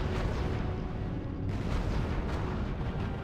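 Dense, continuous battle noise in the video game R.U.S.E., a heavy rumbling wash of distant gunfire and explosions with no distinct individual shots, steady and muffled throughout.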